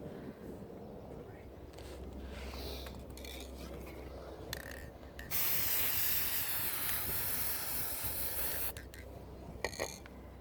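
A steady broadband hiss of gold aerosol spray paint runs for a few seconds, loud and close, with quieter bursts and faint background noise before and after.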